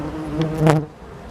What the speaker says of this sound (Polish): Jest wanie tych pszczół